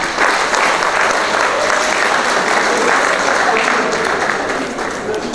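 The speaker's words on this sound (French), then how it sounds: "je veux un tonnerre d'applaudissements" Thunderous applause fills a wedding reception hall, a loud, steady wash of many hands clapping at once. It holds for several seconds and then tapers slightly near the end.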